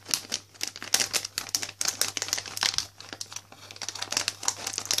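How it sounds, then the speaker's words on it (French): A Christmas box is cut open with a pair of scissors, giving bursts of crinkling, crackling packaging and snipping, irregular and close, with brief pauses between the rustles. "je vais utiliser ma paire de ciseaux pour ouvrir la boîte"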